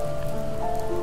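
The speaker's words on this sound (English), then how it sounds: "The rain cascaded onto the Jade Valley where the entrance to the tree was." Steady, dense rain falls over a valley in a story-driven scene, a close and even patter on surfaces with no other sounds or voices.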